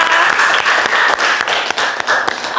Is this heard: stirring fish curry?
no